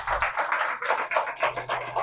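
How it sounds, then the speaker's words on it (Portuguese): A church congregation claps in steady rhythmic unison, a quick regular beat of hands repeating evenly throughout, moderately loud and close with no other sounds on top. "Vamos aplaudir a Jesus, amados."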